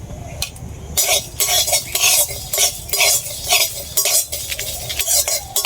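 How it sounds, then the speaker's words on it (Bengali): Fennel seeds and broken dried red chillies fry lightly in oil, with rhythmic bursts of sizzling and repeated clinks of a utensil scraping and stirring the pan, close and fairly quiet. "মৌরি আর দুটো শুকনো লঙ্কা মাঝখান দিয়ে ভেঙে নিয়েছি, এগুলো আমি ভেজে নেবো হালকা করে।"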